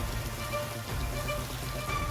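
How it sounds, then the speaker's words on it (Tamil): Sudden heavy rain falls over Pudukkottai town, a dense, even hiss of drops on surfaces that holds steady and fairly close for the whole stretch. "புதுக்கோட்டை நகர் மற்றும் அதன் சுற்றுவட்டார பகுதிகளில் திடீரென பலத்த மழை பெய்தது"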